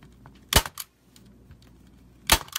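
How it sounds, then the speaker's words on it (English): A commercial staple gun firing into folded pipe cleaners: two sharp, loud snapping shots about two seconds apart, each followed by a quick lighter click, with faint handling noise between. "Next, I'm going to use my commercial staple gun."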